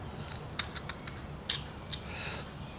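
A blade cuts through roughout leather up close, making a few quiet, crisp snipping clicks in an uneven rhythm over a soft background hiss.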